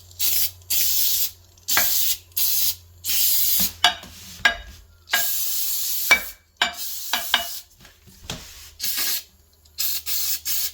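BBQ cleaner sprayed from a nearly empty can into a toilet bowl: a run of hissing bursts of varying length, some long and some short with gaps between, close and fairly loud, with no talking.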